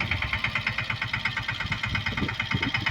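A Swaraj mini tractor engine runs steadily nearby, its rhythmic diesel chugging pulsing evenly while it pulls a seed drill in a field, with no voices over it.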